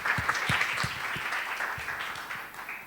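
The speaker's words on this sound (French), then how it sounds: "On peut l'applaudir." An audience at a French open-day event applauds in a steady wash of clapping that carries through the whole moment and tapers slightly near the end, with no voices standing out.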